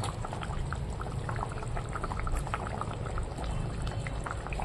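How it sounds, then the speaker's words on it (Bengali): Fish curry with vegetables simmers in a pot after water is added, bubbling steadily with a dense, moderately loud burble and small pops throughout. "এই যে সবজি কষিয়ে জল দিয়ে দিয়েছি, এখনো মাছটাও দিয়ে দিলাম"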